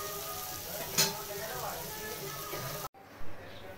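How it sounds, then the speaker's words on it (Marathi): Surmai fish frying in a pan for a Konkani-style dish, with a steady, moderate sizzle and crackle and occasional clinks of stirring. The sizzle cuts off abruptly near the end. "अशा पद्धतीनं मच्छी परतून घ्यायची."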